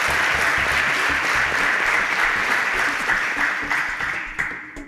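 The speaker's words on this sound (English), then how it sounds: "A round of applause for Adekunle." Studio audience applause for a contestant on a Nigerian student quiz show, steady crowd clapping with a low background hum that tapers off toward the end.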